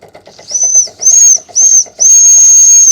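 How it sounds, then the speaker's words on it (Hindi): An old small coal- and wood-fired steam locomotive whistle sounds in four shrill blasts, the last one long and sustained, with steady chuffing of the steam engine pulsing underneath. "ट्रेन की जो पुरानी सीटी है"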